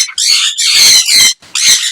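Grey parrots in a breeding pair setup give loud, harsh squawks, three bursts close together over two seconds with brief gaps between them and no talking.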